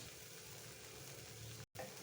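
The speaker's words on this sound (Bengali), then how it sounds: "মশলাটায় তেল ছেড়ে এসেছে এখন আমি মাছগুলো দিয়ে ঝোল দিয়ে দেবো" Spice paste frying in oil with fish and gravy going into the pan, a soft, steady sizzle and bubbling hiss that runs on evenly, briefly cutting out near the end before resuming.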